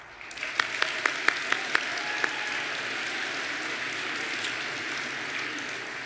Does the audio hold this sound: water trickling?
no